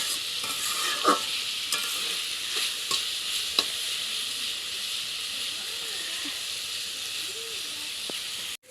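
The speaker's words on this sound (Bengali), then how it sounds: "আর এই যে থানকুনি পাতা সেটার ভাজি বানাচ্ছি" Thankuni (Indian pennywort) leaf and potato bhaji frying in a pan, a constant soft hissing sizzle broken by occasional clinks and scrapes of stirring, with no talk.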